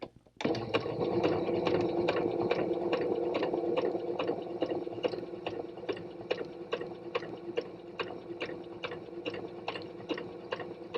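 A sewing machine stitching pieced fabric runs steadily, with a fast, even mechanical clatter of needle strokes that stays close and loud throughout and has no voices over it.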